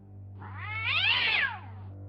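In the King's Quest 3 remake a cat yowls when grabbed by the scruff, a single drawn-out, rising and falling caterwaul heard close and alone over a low steady hum.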